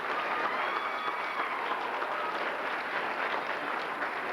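An audience at a school D.A.R.E. graduation applauds Odyssey of the Mind students, a steady, even wash of many hands clapping at a moderate distance, sustained without pause and with no talk over it.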